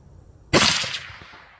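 A single loud, sharp rifle shot from a Savage .350 Legend fired outdoors at a target, with a sudden crack that rolls off into a fading echo.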